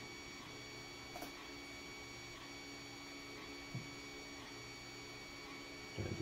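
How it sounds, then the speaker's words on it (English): A malfunctioning 3D printer running in the background, a faint, steady whir with a tonal hum and a few soft clicks and knocks. "That noise in the background is the actual 3D printer, which is not working correctly."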